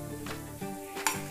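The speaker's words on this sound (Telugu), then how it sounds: "ఇప్పుడు కొంచెం ఇంగు యాడ్ చేసుకోవాలి." Asafoetida is added to a sizzling tempering of peanuts in oil for mango rice, a brief close crackle with a few light metallic clinks of a spoon against the pan.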